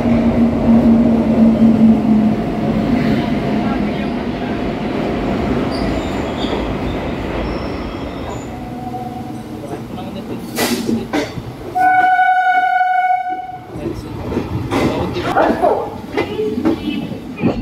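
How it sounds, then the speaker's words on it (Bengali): A train pulls into a station with a loud rumble, squealing wheels and a long blaring horn blast, close and dominant, with faint voices around. "ট্রেন আসুক, তারপর কথা হচ্ছে"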